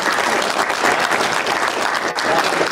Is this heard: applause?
yes